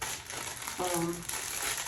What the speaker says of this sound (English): I'm gonna pull out one of these for like a plastic cap